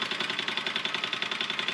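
A Stirlingkit miniature steam beam engine running on a small boiler, a quiet, rapid, even chuffing and clicking beat repeating about ten times a second, close and steady with no talking.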